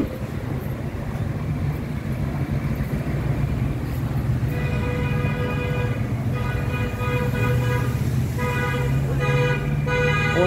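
Car horns from a wedding party circling the streets of Veliko Tarnovo honk in long sustained blasts over constant traffic and street noise, some of them overlapping.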